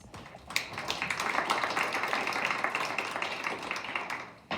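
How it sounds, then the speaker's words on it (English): A round of applause for a performing group of ladies on an NBC radio entertainment show: dense, crackling clapping from many hands builds quickly and holds steady for several seconds before tapering off. "Let's give them a round of applause."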